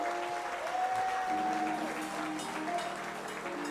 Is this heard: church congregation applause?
yes